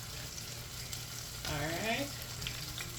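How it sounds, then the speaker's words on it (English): Food frying in a pan gives a soft, steady sizzle throughout, briefly swelling with stirring and scraping midway, while a quiet voice speaks a single word. "I think someone done frying now."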